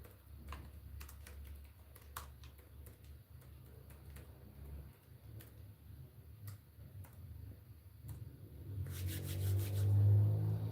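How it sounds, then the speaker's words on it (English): Quiet, irregular clicking of keys on a computer keyboard as a question is typed, soft and close, with a low hum beneath and a louder rustle toward the end. "let me type the question that I was typing."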